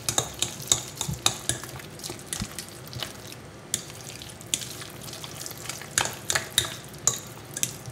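A fork works through a ricotta and black olive mixture in a bowl, giving quick repeated clicks and soft wet squelches in an uneven rhythm, close up.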